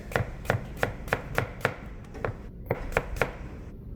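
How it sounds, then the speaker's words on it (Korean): Knife slicing radish for nabak kimchi, chopping through it into thin, even pieces the same size and shape as cabbage: a close, steady run of about a dozen crisp board taps at a brisk rhythm, with no talk. "무도 마찬가지로 배추랑 같은 크기, 같은 모양으로 썰어줍니다."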